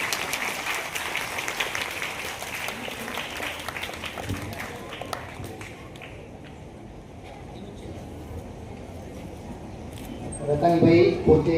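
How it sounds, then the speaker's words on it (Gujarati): Applause for students at an award ceremony, a broad burst of clapping that thins and fades over the first seconds, followed by quieter room sound with some talk and a louder swell near the end. "જોરદાર તાળીઓ થઈ જાય વિદ્યાર્થીઓ માટે"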